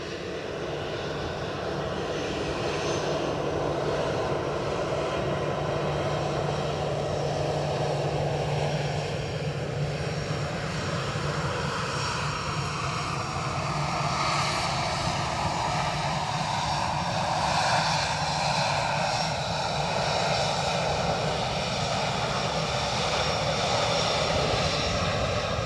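A British Airways airliner arriving at Edinburgh Airport gives a sustained engine roar with a rising and falling whine, heard alone with no talk for most of its length.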